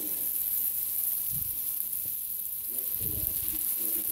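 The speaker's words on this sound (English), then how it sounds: "And then you cook them in the pan like you would a regular hamburger." Bacon-wrapped meatloaf patties frying in a pan give off a quiet, steady sizzling hiss, with a couple of soft bursts of crackle, heard close and alone.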